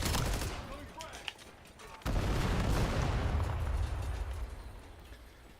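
Cluster grenade blasts in Call of Duty Black Ops 7, with sharp cracks early on, then a sudden heavy boom that rolls into a loud sustained rumble and slowly fades.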